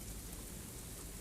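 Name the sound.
rain falling in a garden, radio play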